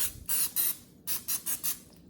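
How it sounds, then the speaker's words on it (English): Cooking spray hissing onto a waffle iron in five short bursts, crisp and close, separated by brief pauses. "you're gonna spray it down just a little bit so that the waffle doesn't stick to it"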